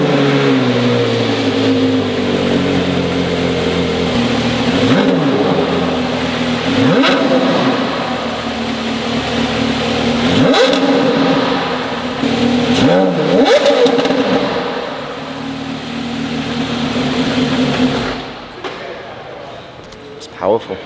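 Porsche Carrera GT cold start, the $2.8 million car's engine idling loud and close with repeated sharp revs rising and falling, then cutting off near the end.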